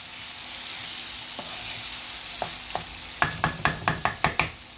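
Chopped green peppers and onions stirred in a hot pan for paneer capsicum bhurji: a soft steady sizzle, then a quick series of sharp spatula scrapes and clacks against the pan near the end, close and clear.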